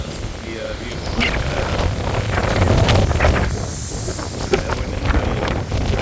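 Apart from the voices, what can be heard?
hurricane wind outdoors, Hurricane Helene, Cape Coral Florida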